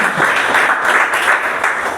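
Group clapping during a discipleship training session, a loud, dense patter of many hands that holds steady for about two seconds with no talking.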